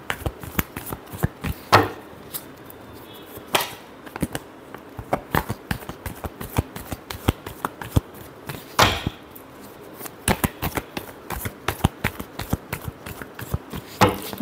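Tarot cards are shuffled by hand in a rapid series of sharp slaps and riffles, close and crisp, with irregular clustered bursts continuing throughout and no talk over them.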